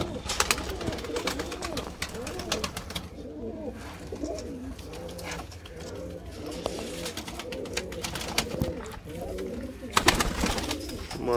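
Teddy pigeons coo repeatedly in a rolling, layered chorus close by, with soft rustling and occasional clicks in a pigeon loft and faint voices underneath.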